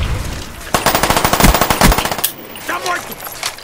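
Uzi submachine gun fire in Call of Duty Black Ops 1 zombies, rapid bursts of loud automatic shots close up, followed by quieter game effects and a brief voice.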